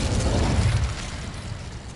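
A fire spell cast in the video game Hogwarts Legacy, heard as a loud, close whooshing burst with a deep rumble that peaks early and then slowly fades over about two seconds.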